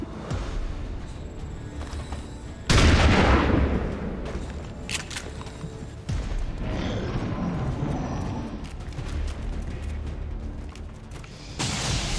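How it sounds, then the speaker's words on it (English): Heavy gunfire and blasts from the turn-based strategy game XCOM 2: War of the Chosen, with a loud booming burst followed by sustained, dense rumbling fire and scattered sharp cracks. "There's heavy fire in this zone."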